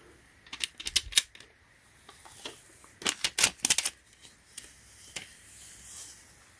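Sticky adhesive tape is peeled from a replacement battery inside an Apple MacBook Air, giving bursts of crackly tearing in two clusters with short pauses between them, close and fairly quiet, with no talking.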